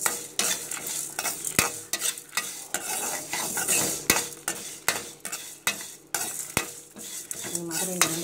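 Pepper chicken frying with garlic and ginger in a pan, a constant low sizzle broken by repeated close metal scrapes and clanks of stirring at a steady pace.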